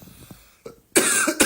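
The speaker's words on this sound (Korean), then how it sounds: "이거 감기 걸려서 나온 기침이 아니라 아까 물을 먹었는데 사례가 들렸나 봐." A person coughs after choking on water: a few soft throat sounds, then two loud, harsh coughs close to the microphone.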